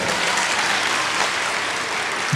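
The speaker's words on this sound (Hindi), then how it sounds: "एक अच्छी ताली जोर से।" An audience giving loud, sustained applause at a speech event, a dense, steady wash of clapping throughout.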